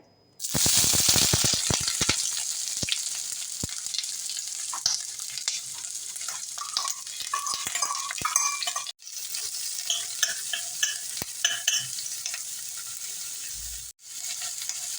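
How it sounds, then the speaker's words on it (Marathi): Chopped onion sizzling and frying in hot oil in a pan, a loud steady crackle with occasional stirring scrapes throughout, no talking. "तेल तापलेलं आहे आता इथे मी हा कांदा जो आहे तो पहिल्यांदा घालणार आहे"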